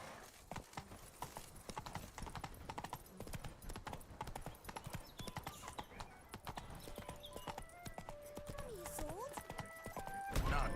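Hooves of the horse Roach in The Witcher 3 pound in a quick, steady galloping rhythm, up close and continuous. Game dialogue and music play over them, with a neigh-like tonal sweep near the end.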